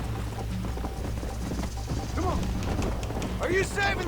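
Horse hooves galloping in Red Dead Redemption, a steady rapid clip-clop under game sounds with someone talking over it and brief voice-like cries near the end.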